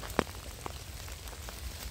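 Rain falling in a cold-season forest during mushroom picking, a steady soft hiss of drops on leaves with a few sharper nearby drips standing out.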